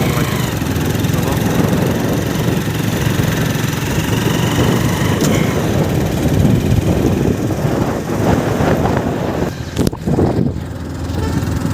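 A motorbike engine labours up a mountain road on a ride toward Bhutan, its loud, steady drone continuing without a break for the whole stretch, with rushing wind noise mixed in.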